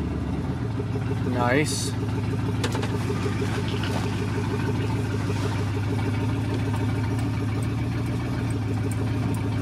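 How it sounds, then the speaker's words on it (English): A loud car engine without a muffler idles with a steady, rumbling, harmonic drone that rises briefly as it is revved, then holds even; a voice speaks briefly over it. "She's loud. Definitely need to put a muffler on this thing."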